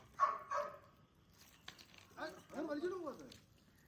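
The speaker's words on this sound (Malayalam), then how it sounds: "ആ പട്ടി തന്നെ ഇവിടെ കരയുന്നു." A dog whines in rising and falling cries after a couple of short, sharp yelps, fairly close, with a little background noise.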